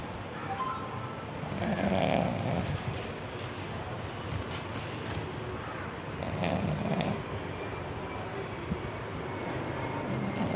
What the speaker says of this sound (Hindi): देखा आपने किस तरीके से खर्राटे मार रहे हैं।